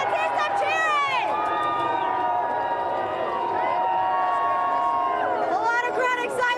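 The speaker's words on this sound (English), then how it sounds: "A lot of crowd excitement today. A lot of people cheering." Fans in a big crowd at a Boston Celtics championship parade roar and cheer continuously, with loud sustained whistles and shouts, and a reporter speaking close over the din.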